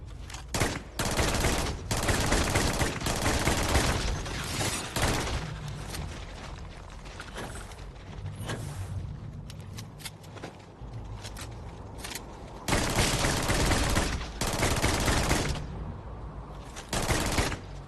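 Video game gunfire crackles in dense rapid bursts, with long loud volleys separated by short pauses and scattered single shots, close and harsh throughout.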